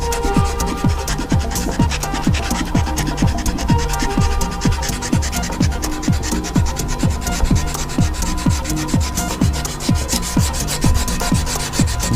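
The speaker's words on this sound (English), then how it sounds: "one last pass with the sandpaper and I can get these spoke bits done." Steady back-and-forth rasping of sandpaper worked by hand over the spokes of an old Starion car wheel, a regular rubbing rhythm of quick strokes repeating close and loud throughout with no talking.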